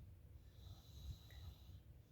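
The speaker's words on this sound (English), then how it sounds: "I don't know if you can hear my son snoring, but he's snoring." A young boy snores at night in a quiet room, with faint, low, rumbling breaths rising and falling close by and no talking.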